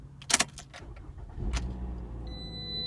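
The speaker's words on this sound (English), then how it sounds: "Vehicle starts up, and we are done." A 2017 Toyota RAV4 starts after the key jangles in the ignition: a brief clatter of keys, then the engine cranks and settles into a steady near idle, with a faint high chime above it.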